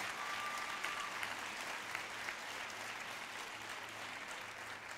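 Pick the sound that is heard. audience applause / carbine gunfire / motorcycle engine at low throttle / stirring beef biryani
audience applause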